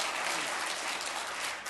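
Applause from the audience at a planning commission meeting, a steady wash of clapping heard at a moderate distance for a couple of seconds, fading slightly at the end.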